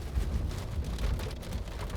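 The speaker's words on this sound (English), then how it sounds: "It's raining on my parade and our review." Steady rain falling outdoors during a 2015 Honda Fit hatchback test drive, a dense even hiss with low rumbling underneath, continuous and fairly loud throughout.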